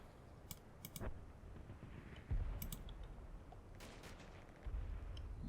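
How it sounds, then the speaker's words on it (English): Small arms fire in the WWII strategy game Combat Mission Final Blitzkrieg: sharp, scattered pops and crackling bursts over a steady background rumble, with a few heavier thumps. "Bit of small arms fire."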